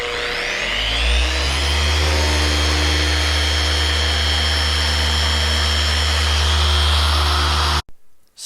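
Rotary car polishing machine spinning a final polishing pad over black car paint, a loud steady whine with a low drone that holds for about eight seconds before cutting off abruptly.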